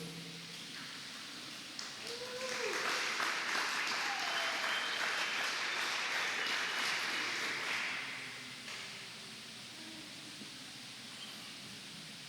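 Applause from a church congregation during a Sunday service, a broad wash of clapping that swells in around two seconds, holds steady for about six seconds, then fades back to quiet room tone.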